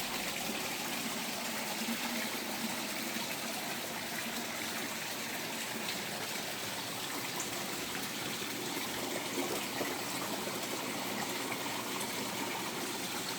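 Water flows through an aquaponics system in a steady, faint rush with a soft trickling texture, continuous and unchanging, with no voices.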